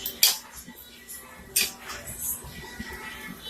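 A utensil stirs shrimp fritter batter in a bowl, giving soft scraping and a few sharp clinks against the side at irregular intervals, fairly close and quiet.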